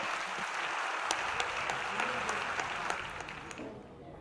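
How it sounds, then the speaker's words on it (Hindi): Audience applause at a youth motivational talk with minister Rajyavardhan Singh Rathore in SMS Stadium, a sustained crowd clapping with sharp individual claps standing out, fading near the end. "जिसका मन करे वो खड़े होकर जोरदार ताली बजाकर धन्यवाद करे"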